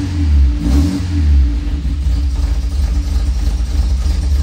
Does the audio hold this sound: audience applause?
no